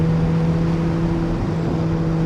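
A naturally aspirated engine in a Chevrolet C8 Corvette Z06 hums at a steady, fairly even pitch, a sustained engine drone heard from inside the car without strong revving.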